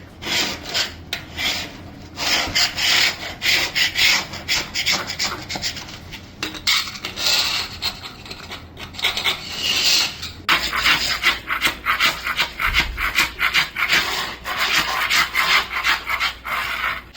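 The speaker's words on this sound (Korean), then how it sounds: "줄눈에는 그 그라인더 작업이" A grinder raking out grout lines between bathroom tiles, giving a continuous rough, rasping grind that pulses unevenly over a long stretch, loud and close, with no talking.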